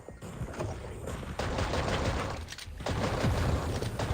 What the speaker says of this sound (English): Do a little bit on the old rifle.